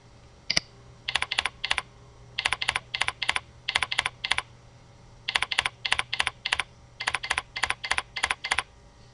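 Rapid bursts of keystrokes on a computer keyboard, typed in short clustered runs with brief pauses between, close and clear in a quiet room.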